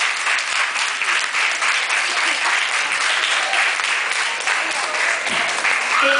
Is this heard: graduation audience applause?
yes